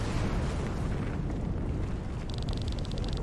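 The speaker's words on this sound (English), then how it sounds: "Explosions?" Explosions rumble through a scene in the video game Chained Echoes, a dense, continuous low roar with a hissing crackle layered on top late in the moment, loud and sustained without pause.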